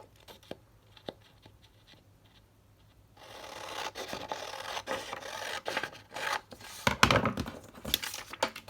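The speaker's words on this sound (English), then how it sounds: "let's cut off the top, and then we'll cut off the bottom" Scissors cut through a paper bag for a Daphne's Diary junk journal cover: a few soft, sparse clicks, then close, continuous rasping and crinkling as the blades work through the paper, growing louder toward the end.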